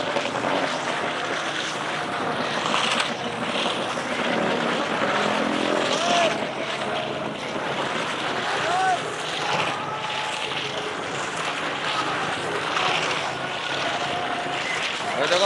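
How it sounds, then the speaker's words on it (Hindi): Heavy Royal Enfield Bullet motorcycle circling in a well of death at the Nauchandi Mela fair in Meerut, its engine a continuous droning roar with swelling passes, while someone talks over it. "ये बुलेट है लास्ट में चलने के, और बुलेट को मौत है कुएं में चलाना बहुत बड़ी बात है, बहुत हैवी बाइक होती है।"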